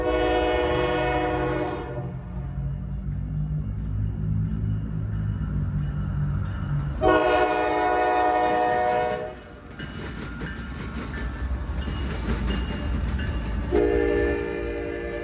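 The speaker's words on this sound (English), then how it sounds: "The next train today would be loaded grain train G134 from Columbus, Ohio to the grain elevator in Garrett," A heavy loaded CSX grain freight train rumbles past with clattering cars in Deshler, Ohio, while a loud multi-tone horn sounds in long blasts, cutting off and returning.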